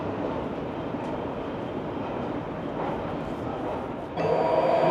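BART metro train pulling into West Oakland station, a steady loud rumble of wheels on rails with a brighter screech of braking near the end, close by.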